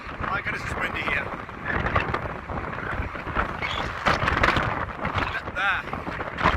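Strong wind at Madrid Barajas airport buffets the microphone with constant low rumbling gusts, loud and close, under a person speaking throughout.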